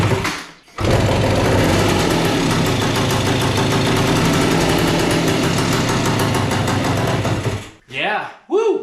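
The two-stroke engine of an abandoned 1976 Suzuki TS185 dirt bike catches and runs. It makes a loud, close, ringing buzz that holds steady for several seconds, then cuts out, and a voice cheers at the end.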